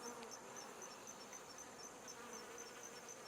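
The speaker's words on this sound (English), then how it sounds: "These bees know exactly where this water is." Bees hum steadily around a water source outdoors on a warm day, a close, continuous insect drone with high whine and no voices.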